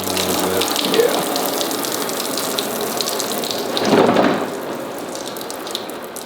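Dirty brown engine coolant pours out of a Ford 4.6L four-valve V8 during a teardown, a steady loud gushing splash that surges briefly midway, with no talk over it.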